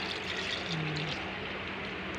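Melted candle wax pours steadily into a ring-type candle mold, a continuous soft liquid stream that runs throughout without any talk.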